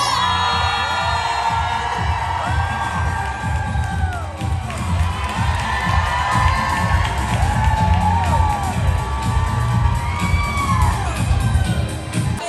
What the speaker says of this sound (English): give us a big curly queen round of applause for Tabitha Brown